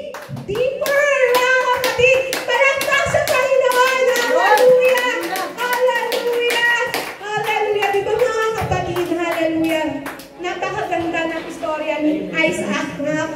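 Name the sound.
congregation clapping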